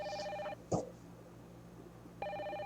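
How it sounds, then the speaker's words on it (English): A telephone ringing in the survival horror game Parasite Eve: an electronic trilling ring, a pause with a thud, then the ring starts again, clear and fairly close. "Oh, now it's the phone call."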